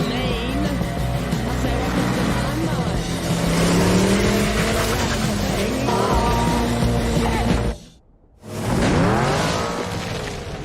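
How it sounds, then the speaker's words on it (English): The Ecto-1 from Ghostbusters: Afterlife tears through a wheat field, its engine roaring loudly and steadily with tire noise and swelling score. It cuts out abruptly for a moment, then surges back in. "The scene where Trevor drives the Ecto-1 through this fucking field of wheat."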